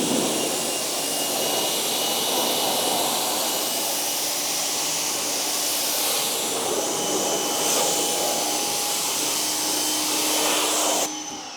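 Pressurized water spray rinsing Porsche wheels with a matte, satin or powder-coated finish, a loud steady machine whine and hiss throughout, cutting off abruptly near the end.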